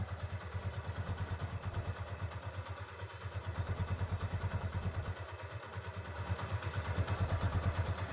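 A restored Hero Karizma R motorcycle engine idles steadily close by, its even rapid thumping beat running throughout with faint mechanical clatter and no voices.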